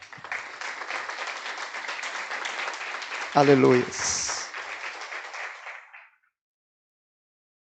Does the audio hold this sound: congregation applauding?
yes